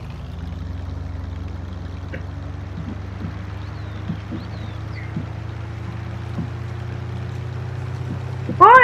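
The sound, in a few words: waterfall in the video game Farming Simulator 19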